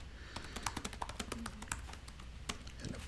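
Quick, uneven tapping on a computer keyboard while a tweet is typed, close and fairly quiet, with short pauses between clusters of keystrokes.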